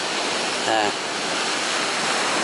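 Small waves roll onto Barmouth beach in a continuous loud surf wash close by. A brief voice fragment is heard early on.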